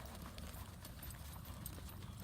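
Hooves of a mounted shooting horse clip-clop in a steady, smooth lope, close and fairly loud over low rumbling background noise, with no talking.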